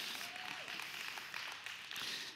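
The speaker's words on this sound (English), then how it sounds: "We can clap for her." A church congregation gives a short, scattered round of clapping, a light, steady patter heard at moderate distance with a faint tone underneath and no voices on top.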